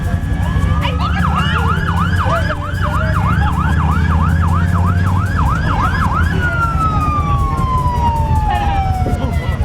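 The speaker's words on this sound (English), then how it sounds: "There's the warning sirens." Warning sirens sound ahead of the explosive demolition of a high-rise tower, a loud wailing siren rising and falling rapidly in a repeated yelp pattern, then shifting to a long slow descending tone, over a low rumble of background noise.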